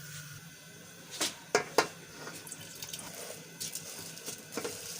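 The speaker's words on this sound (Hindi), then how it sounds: "अब हम इसमें ऐड करेंगे पानी। ये 1 जग हमारे पास पानी है" Water pours from a jug into a pot of fried peas for matar pulao, a soft splashing trickle broken by a few brief sharper splashes, faint and close.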